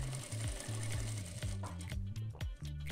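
A sewing machine stitches a fabric Christmas star bag, its motor running in short bursts with a rapid mechanical needle chatter, close by and steady, pausing briefly between runs.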